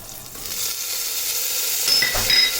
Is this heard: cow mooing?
no